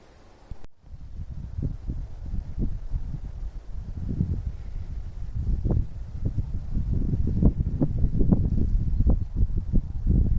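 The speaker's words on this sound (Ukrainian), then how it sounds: "справжня завірюха" Blizzard wind high in the Carpathian mountains buffets the microphone in low, gusty rumbles that grow stronger and more frequent, with no other sound.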